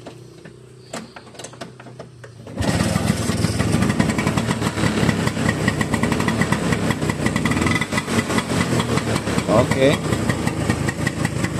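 A 1965 Vespa VBB scooter engine kicks into life and settles into a steady, close, putting idle with a rapid uneven beat, after a short stretch of quieter handling noise and a brief spoken word.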